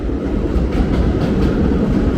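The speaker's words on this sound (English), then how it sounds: "Look, I got a train running on the express track." A subway train rumbles past steadily on the express track at New Utrecht Avenue, Brooklyn, a dense low roar with faint rhythmic clatter of wheels on track, no voices.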